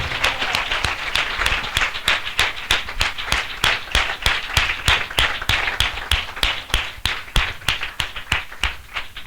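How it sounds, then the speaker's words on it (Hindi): Church congregation clapping loudly in unison to thank God, sharp synchronized claps in a fast, even rhythm of roughly three per second, strong and unbroken for over nine seconds. "जोरदार तालियां बजाकर परमेश्वर का धन्यवाद कीजिए"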